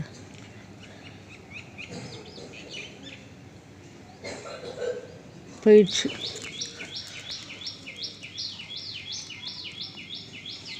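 A blue bird calling from a tree: after a brief spoken word, it breaks into a quick series of repeated, bright chirps that run steadily on to the end, close and clear over faint background insects.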